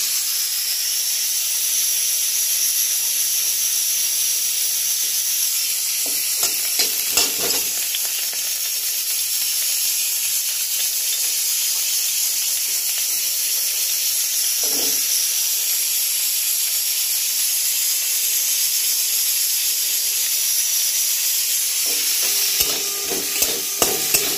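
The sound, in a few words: potatoes frying in a pan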